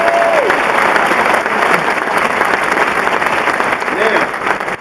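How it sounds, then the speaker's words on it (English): Sustained audience applause at a Hunter school class event in New York, loud and dense throughout, with brief bits of voice breaking through near the start and end. "Let's have a round of applause for them."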